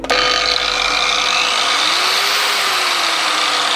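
A cordless variable-speed angle grinder built for 125 mm discs spins up with a sharp start and then holds a steady, loud whine, with a faint tone that drifts slightly in pitch as it runs alone.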